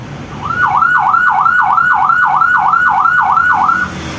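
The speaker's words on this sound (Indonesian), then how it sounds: "unit ambulans itu di jalan dengan menyalakan sirine dengan nada seperti ini" A loud ambulance siren wails in a steady, repeating up-and-down pattern, close by on the street, with traffic rumble underneath.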